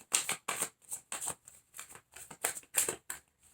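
Tarot cards being shuffled in a run of about nine crisp riffling bursts, each a short papery flutter separated by brief pauses, close and clear with no talk.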